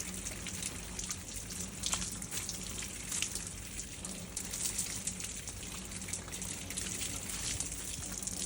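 Shower water running steadily in a bathroom, a constant close hiss and spatter with no talking.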